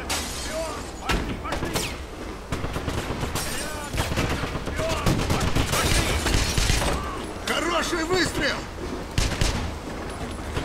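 Gunfire in the video game Wolfenstein: rapid bursts and single shots crack repeatedly alongside booms and impacts, loud and dense throughout, with a player talking over parts of the action.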